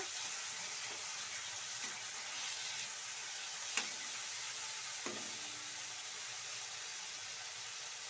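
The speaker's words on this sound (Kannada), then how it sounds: "ಫ್ರೈ ಆಗಲಿ ನೋಡಿ ಈ ರೀತಿ ಟೊಮೊಟೊ ಎಲ್ಲ ಫ್ರೈ ಆಗಬೇಕು" Tomatoes frying in a pan for an Agrahara-style egg curry, a soft, steady sizzle with faint stirring and a couple of light utensil taps, fairly quiet and without talk.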